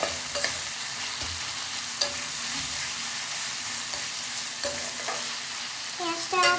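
Onions with sugar fry in oil for spicy chicken, a soft steady sizzle broken by occasional clinks and scrapes of stirring, close and fairly quiet.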